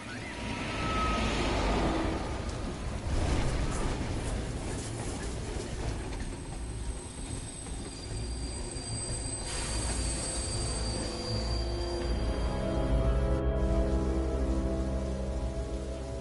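A train in the game Beyond: Two Souls grinds to an unexpected stop, its wheels letting out long high metallic squeals over a rumbling rolling clatter and a hiss like rain, growing into drawn-out screeching tones toward the end.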